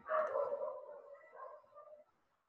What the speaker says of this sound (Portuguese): É que o meu cachorro fazendo zoada aqui